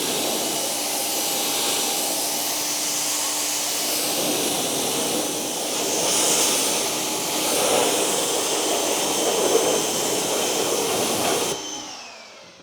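Water sprays steadily onto matte-finished car wheels with a loud, continuous hiss that stays constant and cuts off near the end.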